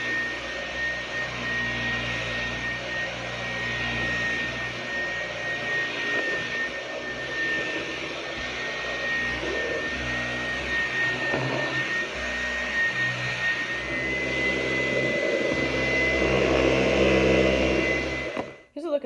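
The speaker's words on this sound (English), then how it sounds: "And now I will change it to max suction on the top of the stick vacuum cleaner as well as on the turbine power head." A Dyson V10 Absolute cordless stick vacuum with its torque drive motorized turbine head runs at max suction, a loud, close, continuous high whine and roar that holds steady for the whole stretch before cutting off at the end.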